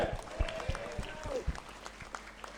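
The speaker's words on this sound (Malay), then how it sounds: "malam ni boleh tak kita bagi satu tepukan gemuruh kepada ahli jawatan kuasa Masjid Laguna" An audience at a Forum Perdana religious talk gives the Masjid Laguna committee a round of applause, with steady spaced claps under a speaking voice that trails off early.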